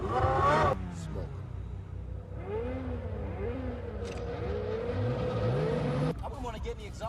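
A Ferrari sports car engine revs in a film scene with repeated rising and falling blips of throttle, fairly close, mixed with other engine noise and brief voices.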